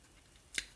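A single short snip of scissors cutting paper, one crisp close cut in an otherwise quiet room.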